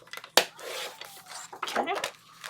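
Paper mat being trimmed for a mini planner, with a sharp snip near the start and a few soft rustling cuts later, close and fairly quiet.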